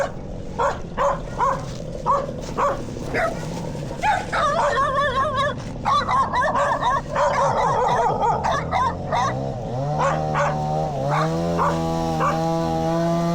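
Little dogs in rural Thailand bark and yip in rapid overlapping bursts, loud and close, with whining howl-like cries toward the end, no speech over them.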